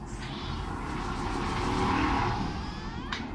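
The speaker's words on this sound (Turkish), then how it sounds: "Tamam, motor geçti." A motorcycle engine roars past at close range, swelling loudly and then fading as it passes, with no talk.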